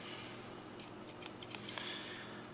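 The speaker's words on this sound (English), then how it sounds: "The scissors work great." Victorinox Cybertool pocket-knife scissors snip in a few quick, quiet clicks over a low hum.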